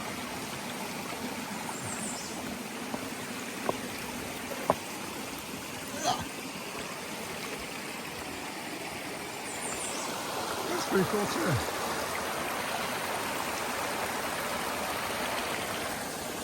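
A stream flows over rocks beside a hiking trail, a steady close rush and gurgle that runs throughout. Someone speaks briefly over the water now and then, and a few faint clicks and footsteps are heard.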